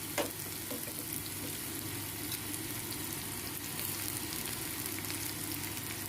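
Garlic and green chillies frying in a pan, a steady close sizzle that holds evenly throughout with no voices.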